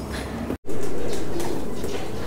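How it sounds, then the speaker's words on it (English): White doves at Yasukuni Shrine give soft, low cooing calls close by in an outdoor setting with steady background noise, following a brief dropout at the start. "these are the white doves of the Yasukuni shrine"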